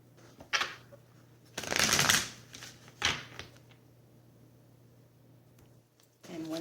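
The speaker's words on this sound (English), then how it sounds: "I'm being instructed to shuffle just once." A deck of tarot cards gets shuffled nearby in short riffling bursts, one long flurry and a couple of brief ones, over a quiet room with a low steady hum.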